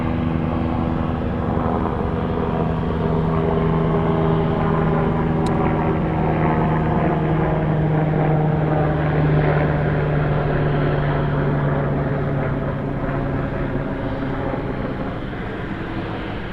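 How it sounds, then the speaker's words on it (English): A UPS Boeing 747 that has just landed at Anchorage's Ted Stevens International Airport gives off a loud, steady jet engine drone and rumble, constant and unbroken for the whole stretch. "A new 747 here in Anchorage. This one landed a few minutes ago."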